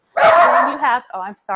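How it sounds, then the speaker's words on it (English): A dog barks loudly nearby indoors, a quick run of sharp barks and yips, while a person talks over it. "that is my dog barking"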